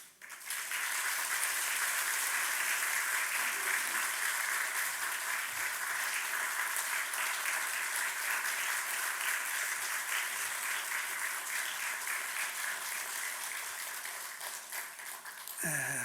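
Sustained, dense applause from a large church congregation fills the room, steady and loud throughout before trailing off slightly at the end.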